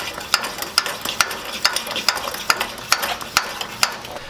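Catfish fillets fry in a well-used pan on a stove, a steady sizzle broken by regular sharp scraping clicks, as if stirred or turned about every half second.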